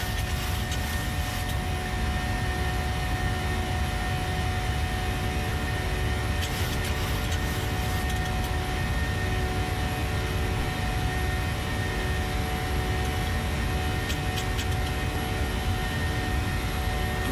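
A Boeing 737-700 flies in Microsoft Flight Simulator 2020, giving a loud, constant jet engine drone with steady tonal hums. It continues unbroken throughout, with no talk.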